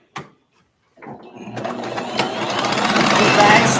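A sewing machine stitches backward in a bag-making tutorial, starting after a brief clunk and silence, then running at a rising, steady mechanical whir up close.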